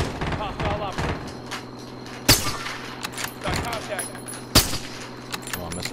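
Gunfire in Call of Duty Warzone comes in rapid bursts with two loud, sharp reports standing out, while a player talks over the shooting.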